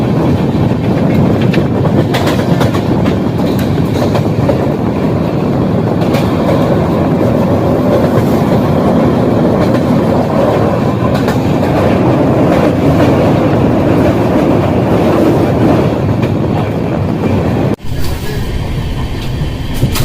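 The 12565 Bihar Sampark Kranti superfast express runs at speed, heard from on board as a loud, continuous rolling rumble with clickety-clack from the wheels, ending with a brief sharp interruption near the end.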